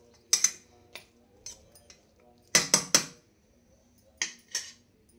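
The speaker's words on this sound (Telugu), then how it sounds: "ఇప్పుడు ఏం చేయాలంటే మనం గరిటెతో తిప్పుకొని శనగపప్పు, బీరకాయ ఉడికిందనమాట" A metal ladle stirs chana dal and ridge gourd curry in a pan, making sparse, sharp clinks and scrapes in small clusters against a quiet background.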